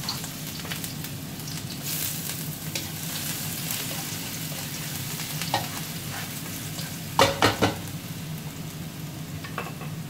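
Onions sauté in hot oil for ampalaya with minced beef, a constant close sizzle broken by a few clattering stirs of a utensil near the end, with no talk.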